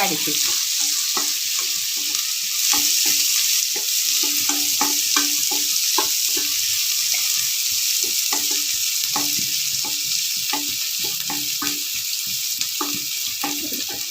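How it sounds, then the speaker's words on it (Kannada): Curry leaves and green chillies roast in hot oil in a pan, a steady close sizzle with repeated scraping knocks of a spoon stirring throughout. "ಸ್ವಲ್ಪ ಕರ್ಬೇವಿನ ಸೊಪ್ಪು ನಾಲ್ಕು ಹಸಿಮೆಣಸಿನಕಾಯಿ ಎಲ್ಲ ಹಾಕಿದ್ದೇನೆ ಒಂದು ಸ್ವಲ್ಪ ರೋಸ್ಟ್ ಆಗೋವರೆಗೂ"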